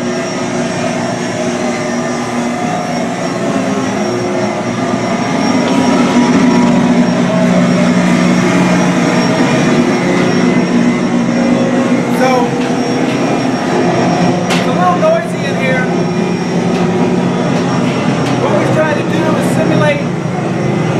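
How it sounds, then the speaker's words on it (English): Loud, continuous mechanical drone of heavy engine machinery in the engine room of the ship Laffey, with steady tonal hum, occasional clanks and ticks layered on top, filling the space. "what sounds like the engine's running"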